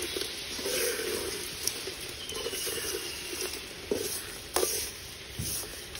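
A spoon scrapes and stirs mutton in a hot pan, with a soft sizzle and occasional clinks against the metal.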